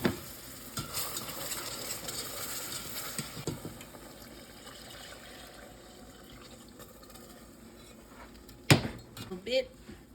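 A milk gravy stirred in a pan for chicken fried chicken, with soft scraping and bubbling, a busier opening, then a few sharp knocks of a utensil near the end.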